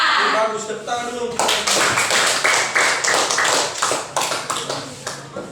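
Students in a classroom break into clapping after a group presentation about an experiment, a voice speaking briefly at first before dense, overlapping claps fill the room and gradually thin out.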